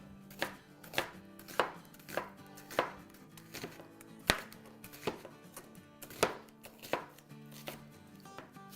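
A knife chops an onion into large rough pieces on a cutting board, roughly a dozen sharp, evenly spaced thuds close by with no talking.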